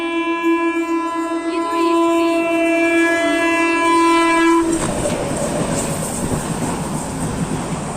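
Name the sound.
train passing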